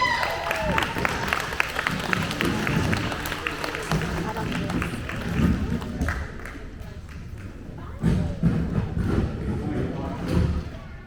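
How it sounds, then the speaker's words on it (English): Audience at a Cub Scout Webelos gathering breaking into a round of applause, with busy overlapping hand claps that swell, dip briefly and pick up again, mixed with voices and some thumps. "give him a big round of applause"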